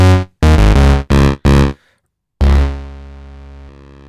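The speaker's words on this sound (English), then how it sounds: "That's the sound of our pulsarizer." Four short, loud, buzzy bursts from a Doepfer A-111-6 Eurorack mini synth in quick succession, a pause, then one long sustained electronic tone that slowly decays.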